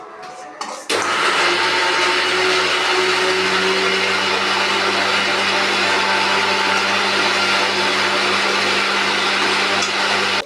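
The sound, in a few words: mixer grinder grinding paste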